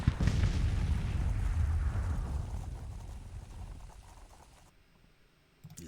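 A heavy boom from a Confederate Rockbridge artillery battery firing in a Civil War strategy game, loud at first and then a long rumbling decay that fades over several seconds, with a faint thump near the end.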